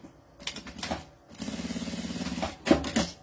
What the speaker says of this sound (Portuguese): Costurinha em toda a volta